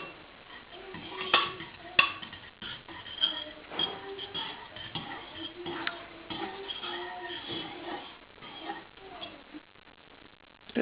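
Eggs being mixed in a bowl, with quick clinking and tapping of a utensil against the sides in an uneven rhythm, fairly faint and close, with occasional voices speaking nearby.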